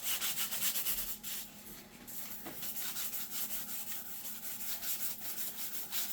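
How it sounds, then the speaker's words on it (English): Scuff-sanding an epoxy countertop by hand, a steady rough rubbing and scraping that keeps going with only brief dips, close and fairly loud, no voices. "I just want to sit here and scuff this up really good."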